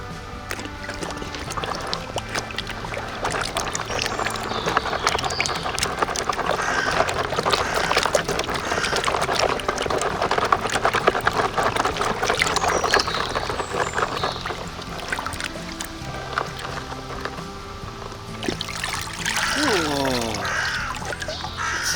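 Water splashes and pours over a dirty toy car in a toy-cleaning scene, a continuous close wash with gurgling bursts that thins out near the end, with a voice speaking at moments.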